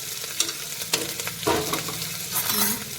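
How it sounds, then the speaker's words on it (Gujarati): Garlic, a pinch of asafoetida and green chillies fry in hot oil for pulao, a close crackling sizzle broken by scraping stirs and small pops. "લસણને શેકી લઈશું."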